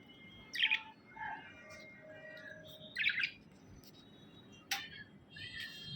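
Pet birds in a cage give sharp chirps and squawks in short bursts with quieter tweets between, close and alone.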